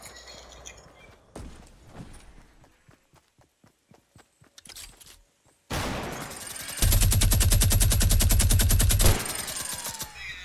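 Rapid gunfire in the Fortnite battle royale, with scattered single shots and then a loud, sustained burst of automatic fire near the end, close and dense.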